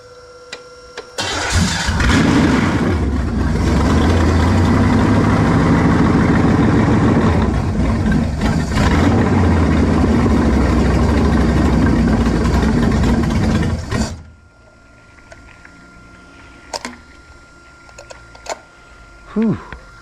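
A carbureted engine on a 2-barrel carburetor fires up with the choke stuck wide open and runs rich, a loud steady rumble for about thirteen seconds before cutting off to near silence with faint knocks.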